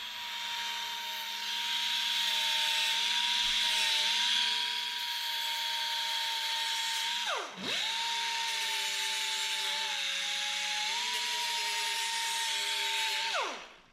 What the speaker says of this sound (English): Starting with the 36 grit on the die grinder here, just to square this thing up